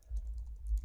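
Soft keystrokes on a computer keyboard as text is typed into a code editor: faint, close, rapid clicks over a low steady hum, with no speech.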